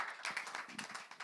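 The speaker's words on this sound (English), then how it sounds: "You can give a big round of applause." Brief, quiet burst of applause from a crowd at a music event, a dense patter of many hands clapping, faint and distant for just over a second.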